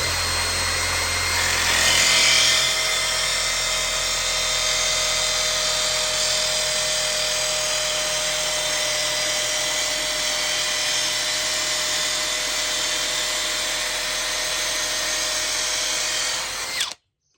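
Power drill boring into wood in a joinery workshop, a loud steady high whine running continuously for about sixteen seconds before stopping abruptly, with no talk.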